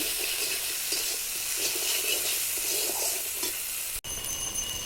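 Spiced vegetables for Bengali shukto sautéed with salt in a pan, giving a loud, continuous close-up sizzle with stirring scrapes, then a short cut and the frying carries on.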